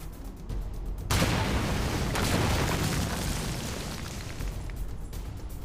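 A hand grenade explodes in a tunnel in a war documentary about the bridge at Remagen: a sudden loud blast that swells into a long, rumbling roar and slowly fades.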